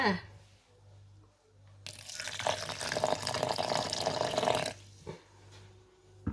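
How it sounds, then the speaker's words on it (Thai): Warm water pours into a mortar for a few seconds, a close steady splashing stream that stops abruptly, followed by a couple of small knocks. "ตามด้วยน้ำอุ่นค่ะ"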